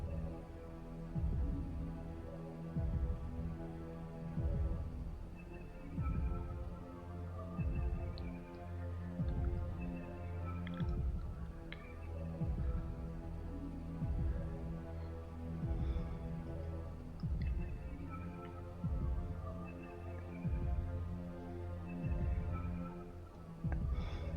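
A slow, heavy heartbeat pulses in Legend of Dragoon, deep rhythmic throbs repeating evenly over a droning hum with no talking.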